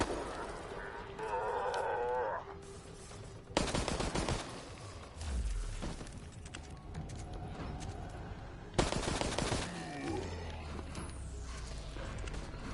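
Gunshots ring out in the game Resident Evil Resistance: two sharp, loud bursts about five seconds apart, each followed by decaying rumble, with game ambience between.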